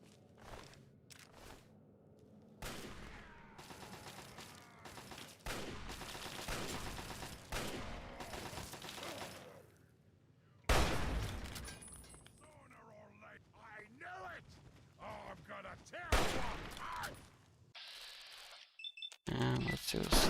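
Turret gunfire in a Fallout video game: bursts of rapid shots and booming blasts come in clusters with quiet gaps between them, and a voice talks over parts of it.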